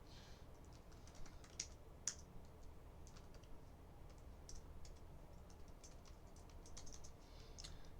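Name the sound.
computer keyboard typing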